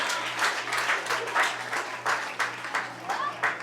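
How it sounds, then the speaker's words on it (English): A crowd claps in bursts at a high school football game between Hartington-Newcastle and Niobrara/Verdigre, uneven pulses of applause with a steady hum underneath and voices mixed in. "Let's give them all a round of applause"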